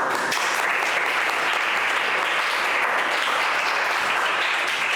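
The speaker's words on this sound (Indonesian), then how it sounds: "Tepuk tangan untuk Muzaki" Steady, dense applause from a classroom of students during a civics lesson, filling the whole stretch evenly and loudly with no pauses.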